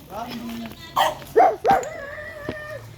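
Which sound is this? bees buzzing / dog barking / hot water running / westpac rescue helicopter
dog barking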